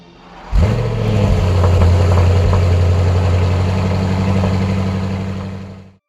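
Bugatti EB110's quad-turbo 3.5 litre V12 starts and settles into a steady, loud, deep idle that holds for several seconds before cutting off, with no voices over it.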